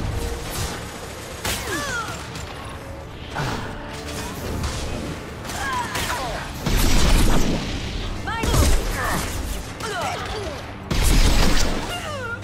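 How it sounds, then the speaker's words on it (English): A high-impact gunshot in Mass Effect 2 lands as a few heavy booms at spaced intervals, mixed with mechanical clanks, creaks and crashing noise in a busy combat scene. "Firing a high impact shot"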